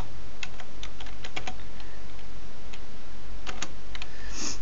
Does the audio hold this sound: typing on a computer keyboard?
yes